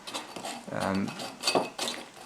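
A spoon pressing dragon fruit flesh through a metal strainer, separating the flesh from the seeds, gives soft scraping and a few light clinks close by, with a voice talking over it.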